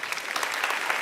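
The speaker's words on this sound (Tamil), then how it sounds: "ஒரு பலத்த கைத்தட்டல்" Loud, steady applause from a studio audience, dense clapping filling the whole moment without pause, on a Tamil television comedy show stage.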